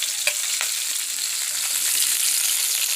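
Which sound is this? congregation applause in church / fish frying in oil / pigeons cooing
fish frying in oil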